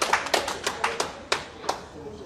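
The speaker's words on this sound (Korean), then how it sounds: "박수하겠습니다." Scattered applause from a small gathering, a handful of sharp irregular claps spread over a couple of seconds, moderately close and fairly faint.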